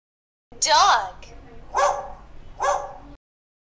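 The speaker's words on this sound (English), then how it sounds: "Dog." A dog barks twice in short, loud, evenly spaced yaps right after a brief spoken word, close and clear against a quiet background.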